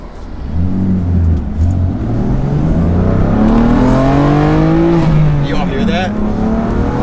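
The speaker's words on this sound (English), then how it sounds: "show you guys how raspy it is when it's like still cold in comfort" A cold BMW F80 M3 fitted with ARM Motorsports high-flow downpipes revs up in comfort mode, its raspy exhaust rising and falling in pitch, heard close from inside the car with some wind noise.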